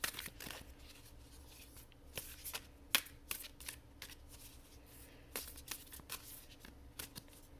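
Oracle cards being shuffled by hand in a quiet room, a steady run of soft riffling and papery slaps with a few sharper snaps, close and fairly quiet, with no talking.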